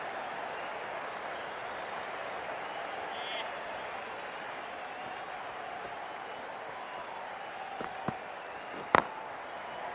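A crowd at an India versus England cricket match in Manchester in Cricket 24 keeps up a broad, steady wash of cheering and applause throughout, with a few sharp knocks near the end.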